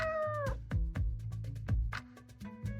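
A cat named Wuzzy in the video game Choices gives a few meows, close and moderately loud, mixed with short clicks and low tones.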